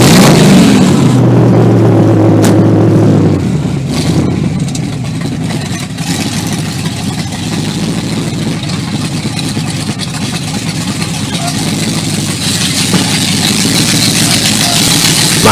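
A 1972 Honda 600 rat rod's small engine catches after a brief cranking burst and settles into a loud, close, rough idle that runs steadily throughout.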